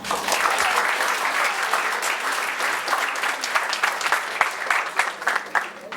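Engineering students and teachers in an auditorium break into loud, hearty applause for a speaker, many hands clapping continuously and growing more scattered and uneven near the end.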